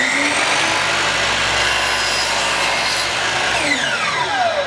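Power saw cutting wood pieces for a glass box, a loud continuous whining roar that holds steady, then spins down near the end as the blade slows, close by with no talking.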